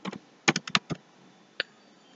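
Keys clack on a computer keyboard as a search term is typed into a search bar, a quick burst of several close, crisp taps, a short pause, then one last isolated keystroke.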